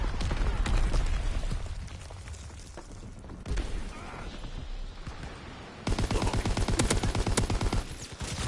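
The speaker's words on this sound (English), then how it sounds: "Enemy mortar fire incoming." Enemy mortar fire in a Call of Duty WWII match: heavy booms and rolling explosions mixed with rapid bursts of gunfire, dense and loud, ending in a sustained volley of shots.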